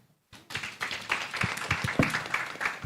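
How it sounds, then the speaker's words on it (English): Audience at a tourism expo plenary session applauding, a dense patter of many hands clapping that starts abruptly after a brief silence and holds steady at moderate distance. "Can we clap bigger? Can we clap better for Ambassador Rosa?"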